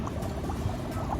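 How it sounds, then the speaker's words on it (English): Dry ice bubbling inside a toy volcano experiment, a close, continuous fizzing and gurgling churn of liquid with no voices. "The lava is bubbling right now."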